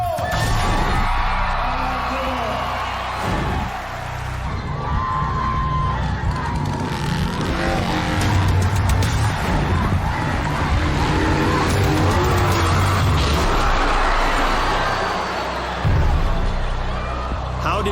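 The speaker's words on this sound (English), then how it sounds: "Bubba Blackwell will attempt to break his own world record by jumping his motorcycle over 22 cars" A motorcycle rider attempts to jump over 22 cars at a racetrack whose soil has been loosened for horse racing. Engine roar mixes with crowd noise in a steady wash beneath a voice.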